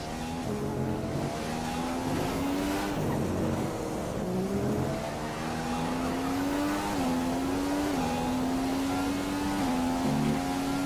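Formula 1 race cars in the F1 2015 video game, on the Mexico circuit, accelerate back to racing speed with a loud, continuous, rising engine whine that keeps shifting gear, steady throughout and with no talk.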